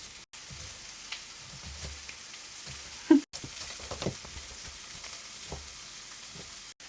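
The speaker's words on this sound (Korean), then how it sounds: "양파를 먼저 볶아주도록 하겠습니다" Onion stir-frying in a pan: a low, steady sizzle with soft scraping stir strokes and one sharper clank partway through, moderately close, no talking.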